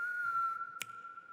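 A steady whistled tone held through a tense scene in a Hindi web series, followed by a single sharp finger snap near the end.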